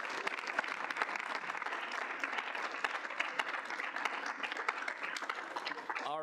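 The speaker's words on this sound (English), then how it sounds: "If we can get a round of applause for Logan." Audience applause at a student senate meeting: a sustained, dense wash of many hands clapping at steady loudness for about six seconds, with a voice starting just as it ends.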